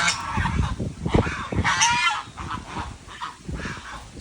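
Several geese on a farm field honk in quick, overlapping calls, loud and near, with a rough, jostling rhythm.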